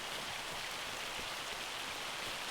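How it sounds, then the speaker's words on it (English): Hail patters in a farming video game, a dense, steady hiss of small impacts filling the whole stretch without pause, with no talk over it. "these cowboy hats really do absorb the impacts from hail quite nicely"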